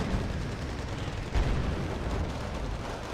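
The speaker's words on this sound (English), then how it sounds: "Su-24 coming in with the bombing strike" Su-24 bombers drop 250 kg bombs in Wargame: Red Dragon on a jungle map, producing a steady rumble of distant explosions with one heavier thud near the middle.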